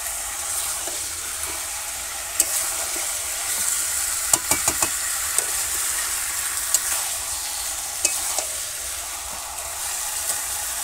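Country chicken meat fried and slowly stirred in a pan over a charcoal or wood fire in a village kitchen on a rainy day; a steady sizzle and hiss throughout, with occasional scraping clicks of the spoon and no talking.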